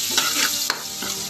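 Ingredients for homemade spaghetti sauce browning in a pan, a close, steady sizzle with quick scraping stir strokes over a brief moment.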